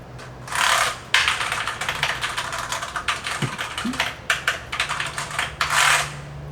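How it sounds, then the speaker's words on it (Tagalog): A mechanical computer keyboard clicks in fast irregular bursts of typing, close and crisp, with a few louder rattling strokes and pauses between runs. "see if the camera will also hear the clicking sound coming from the mechanical keyboard"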